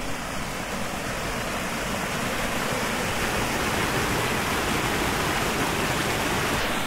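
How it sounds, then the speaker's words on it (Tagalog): Strong, steady rush of water through an irrigation channel at a campsite in Nueva Vizcaya, a loud, continuous broadband roar close by with no voices. "Yung naririnig nyo na agos sa tubig na yan."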